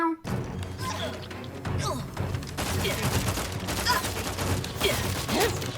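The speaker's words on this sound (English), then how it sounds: "This isn't my assault rifle." Assault rifle fire crackles in The Outer Worlds 2, heard as a dense, continuous stretch of shots and thuds under a busy battle mix, with a voice speaking.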